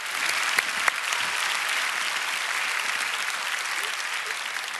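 Church congregation applauding together in thanks, a dense steady wash of clapping that holds at an even loudness for the whole span, with a couple of sharper individual claps standing out near the start.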